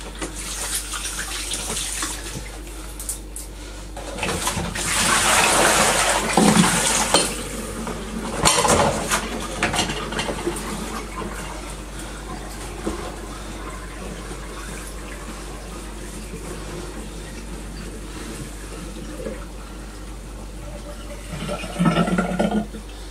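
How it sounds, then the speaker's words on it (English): Hands washed under a running tap, a steady stream of water splashing into a sink, swelling louder at times with brief clatters, continuous and close, with no speech. "so give your hands a wash."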